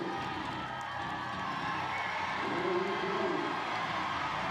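A crowd at the Rogue Invitational 2023 women's deadlift ladder cheers behind Tia Toomey, a steady distant roar that swells slightly partway through.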